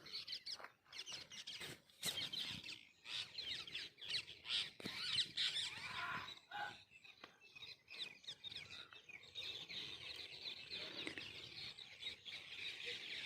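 Many parrots raiding jujube trees squawk and screech in a dense, continuous chorus at a distance, shrill calls overlapping with sharp bursts throughout.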